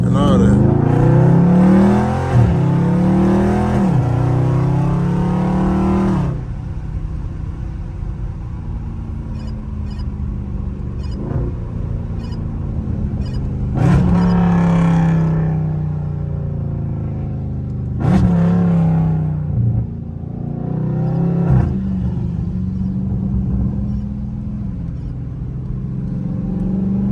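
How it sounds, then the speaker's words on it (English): A loud Dodge Scat Pack engine downshifting in traffic, with repeated throttle blips and revving bursts rising and falling over a steady rumble, close and prominent, with speech faintly present. "I'm gonna use downshift to slow down and all that."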